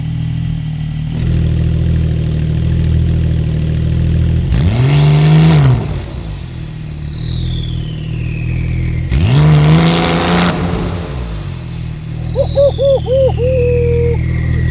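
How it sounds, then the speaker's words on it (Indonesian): A TechArt-modified Porsche 911 engine idles, then twice surges into loud, rising launch-control revs that drop back, followed by a burbling idle with popping rhythm. "Kita coba suara dari ininya ya, suara dari launch controlnya"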